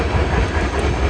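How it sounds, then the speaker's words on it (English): A train rolls past close by, a loud continuous rumble of rail cars with rattling and clatter filling the whole moment, no voices heard. "I wanted to let that train pass"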